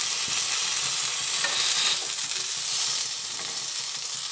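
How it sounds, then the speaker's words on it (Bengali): Eggplant pieces coated with turmeric and salt frying in oil, a dense, steady sizzle with soft stirring scrapes, heard up close and alone, swelling slightly midway before easing. "হলুদ আর নুন একভাবে ভালোভাবে মিশিয়ে নিয়ে এটা ভেজে নিচ্ছি"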